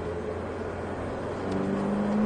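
A Ferrari F8 Tributo engine hums on a racing circuit, then rises in pitch and grows louder as it begins to accelerate.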